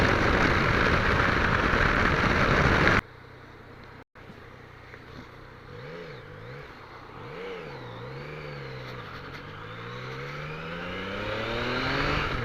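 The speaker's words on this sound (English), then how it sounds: "The sound of a 3-cylinder is something special." A 2015 Yamaha MT-09 Tracer three-cylinder motorcycle engine, preceded by wind roar, revving with rising and falling pitch sweeps through the gears, moderately loud and close, with no talking.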